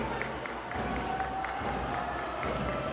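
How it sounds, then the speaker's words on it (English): Futsal supporters of Italo roar in an indoor arena during the final seconds of the 2022 Ontario Futsal Cup men's final. A dense, steady wash of crowd cheering and clapping carries through the whole moment. "All the Italo fans on the feet, ready to cheer on their team"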